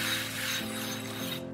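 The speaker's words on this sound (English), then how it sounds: "Give this a quick spray." A can of cooking spray hisses onto a muffin tin in a kitchen, one short continuous burst heard up close and alone.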